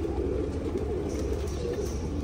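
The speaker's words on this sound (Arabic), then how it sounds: "جابوا لنا زوج طيور شباب كلش حلوات بصراويات" Soft, steady cooing from a pair of young Basrawi pigeons, low and continuous throughout, close by over a constant background hum with no talking.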